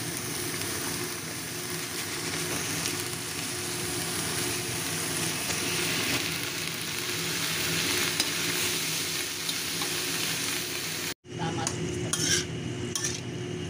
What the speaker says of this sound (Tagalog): Stir fry our vegetables, guys.